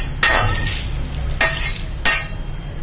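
Dried gooseberry and other herbal ingredients are stirred while dry-roasting in a pan for a vitamin C herbal powder, giving three loud scraping, rattling sweeps at an uneven pace, with no talking.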